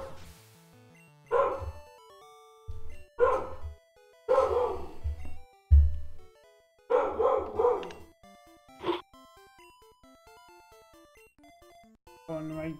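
A dog barks repeatedly in a loud, close, irregular series of yips and woofs, with quieter gaps between the bursts and a tonal background hum throughout.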